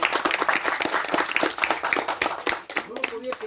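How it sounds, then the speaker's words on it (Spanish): An audience claps for a guest during a talk about an archaeological site, rapid scattered claps mixed with a voice speaking throughout, and a brief higher tone near the end. "Un aplauso para usted y para Ulises."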